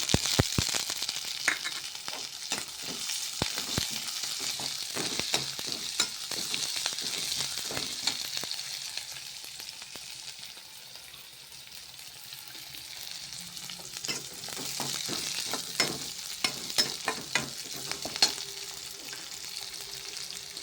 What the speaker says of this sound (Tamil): நல்லா வதங்கட்டும் அப்புறம் பொடியாக கட் பண்ண பச்சை மிளகாய் போடுறேன்